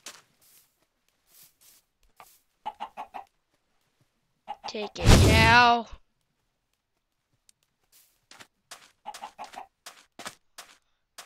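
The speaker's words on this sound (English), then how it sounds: "I killed chicken without even trying." A chicken in the Minecraft video game lets out a single loud, squawking cluck lasting about a second, with someone talking briefly before and after it.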